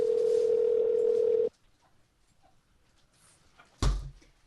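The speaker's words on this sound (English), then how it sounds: "Oh boy, it's ringing. It's ringing." A steady telephone tone hums loudly during a call, then cuts off into near silence before a sharp clunk like a handset or door knock.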